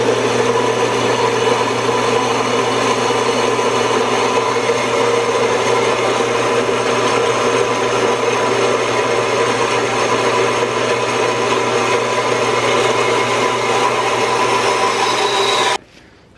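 A cutting machine grinds steadily through a pipe for a Honda S2000 build, a loud, unbroken whirring drone lasting many seconds before cutting off abruptly.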